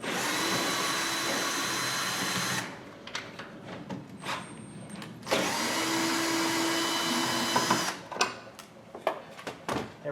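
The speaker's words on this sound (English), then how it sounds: "we need to remove these two Torx screws" A power driver with a Torx bit backs out the two screws holding the tail light on a 2001-2010 Dodge Caravan, giving loud whirring bursts, the first long, the second shorter, then brief tool clicks and handling noise.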